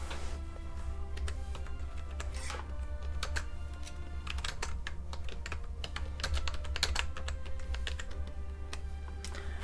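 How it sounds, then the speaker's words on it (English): Rapid, uneven clicking of a computer keyboard being typed on close up, with dense bursts of keystrokes over a low steady hum and no talking. "I was typing it on the wrong keyboard again."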